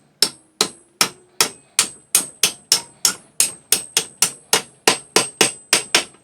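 A big nail is hammered in as a rivet to fix an axe head onto its handle, giving a brisk run of about eighteen sharp, ringing metallic blows at a steady rhythm, close and loud with no talking.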